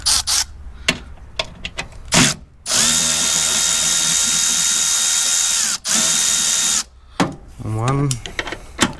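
A power tool whirs loudly and steadily for several seconds while removing 10 millimeter bolts from the wiper transmission of a 2011-2020 Toyota Sienna, with ratcheting clicks before and after and a brief second run; someone speaks between bursts.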